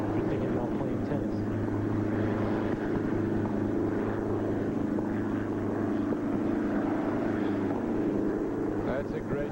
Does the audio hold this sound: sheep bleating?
no